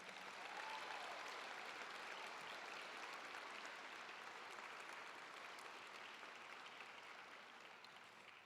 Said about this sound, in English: Let's give another round of applause for Jane and Farron.